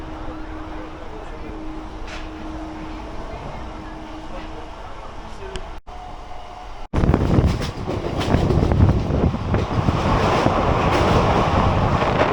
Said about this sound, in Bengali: এই ট্রেনটা যেহেতু নৈহাটি হয়ে বর্ধমান অবধি চলে